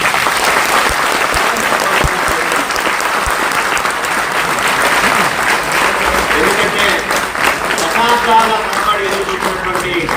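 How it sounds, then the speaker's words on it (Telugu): Loud, sustained applause from a large crowd at a government journalists' welfare event, honouring the chief minister, with dense clapping filling the full stretch at steady intensity. "గట్టి చప్పట్లతోటి"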